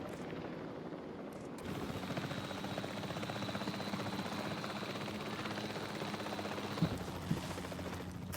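A helicopter in the video game Carnivore Park gives a steady, dense rotor and engine drone that holds throughout, with a couple of faint sharp clicks near the end and no talking.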